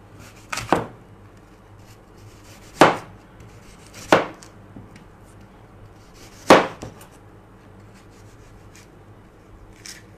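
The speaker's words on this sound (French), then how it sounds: "On va découper la pomme également dans le même" A knife chops an apple in a kitchen, four sharp crisp strikes on a board at uneven intervals, close and clear against quiet background.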